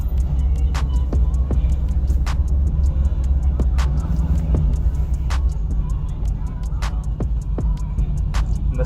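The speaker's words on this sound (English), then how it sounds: "first run I'm going to do it in drive and just brake boost it" A Nissan Gloria Y34 with an RB25DET engine held on the brake in drive, a steady deep rumbling idle hum with irregular ticks and clicks scattered over it, close and continuous.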